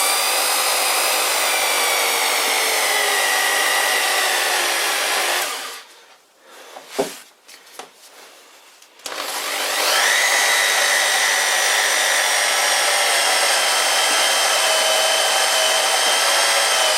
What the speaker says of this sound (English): So I'm going to use the electric drill